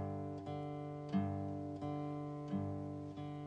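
Fingerstyle acoustic guitar with the thumb alternating between the sixth and fourth strings: a quiet, steady bass pattern of evenly spaced plucks, each note ringing into the next, with no talking.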